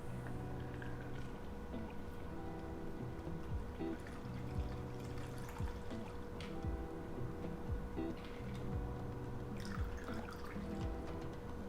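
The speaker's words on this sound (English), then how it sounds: "slap the Hawthorne strainer on top and I'm going to pour it on in" A daiquiri poured from a shaker through a Hawthorne strainer into a glass gives a quiet, continuous liquid trickle with small drips, close by and faint, over a steady low hum.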